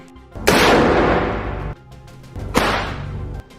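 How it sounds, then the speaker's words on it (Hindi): Two heavy, sharp blasts of gunfire from a Hamas fighter in a war setting, each a loud crack followed by a long rolling decay, spaced about two seconds apart. "हमास का ये लड़ाका उन सैनिकों पर दनादन फायर कर देता है"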